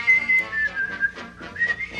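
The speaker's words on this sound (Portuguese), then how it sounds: "será que você poderia parar de assobiar?" Whistling in a Brazilian Portuguese comedy cartoon, a short run of thin, wavering tones drifting up and down across two seconds, fairly close and continuous over soft background music.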